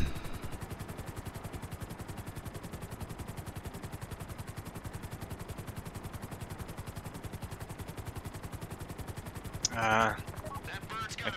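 Rapid, continuous automatic gunfire aimed at a helicopter in GTA V Online, a steady rattling stream of shots held at an even level throughout, with a brief louder burst near the end.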